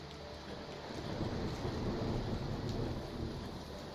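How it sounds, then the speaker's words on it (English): Heavy rain pours steadily, with a low rumble like distant thunder swelling in the middle and then easing. "Rain pours in sheets, drenching the streets"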